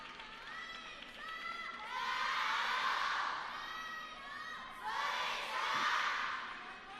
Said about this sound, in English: That's a lot of cheer.